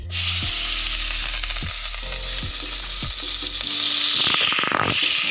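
A steady, loud oil sizzle fills the clip as ginger, garlic and green chili fry in oil left from frying fish, with rhythmic scraping strokes of a spatula against the pan.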